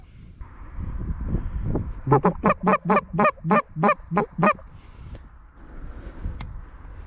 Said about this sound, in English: Geese, geese, geese, geese,